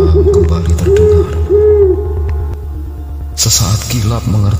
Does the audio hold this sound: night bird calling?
yes